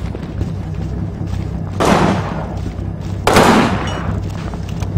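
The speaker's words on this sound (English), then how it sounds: "Setting up the machine gun to take out the mortar team" Machine gun fire in the World War II strategy game Combat Mission Final Blitzkrieg: two heavy, booming bursts about a second and a half apart, loud and close, each trailing off over a constant low background rumble.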